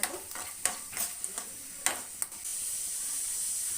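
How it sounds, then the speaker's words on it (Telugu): Eight or nine dried red chillies fry in a pan on a low flame, a few sharp stirring clicks and scrapes giving way to a steady close sizzle. "ఎండుమిరపకాయలు ఒక ఎనిమిది నుండి తొమ్మిది వరకు తీసుకొని దాన్ని కొంచెం ఫ్రై చేసేయాలి"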